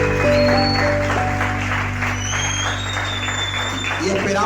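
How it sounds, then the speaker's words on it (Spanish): A church congregation at a discipleship teaching applauds for the Lord, a steady wash of clapping over sustained keyboard-like tones, with a voice also present. "Den un aplauso y fuerte al Señor."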